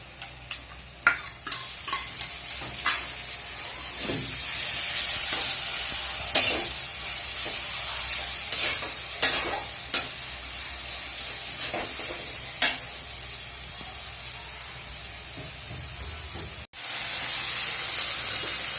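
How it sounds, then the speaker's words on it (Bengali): Duck meat being stirred and fried with a spice paste of turmeric and chili powder in a pan, a steady soft sizzle under repeated scraping stirs and clinks, fairly quiet and close. "আমি ভালো করে মাংসটা মশলাটা কষিয়ে নেবো"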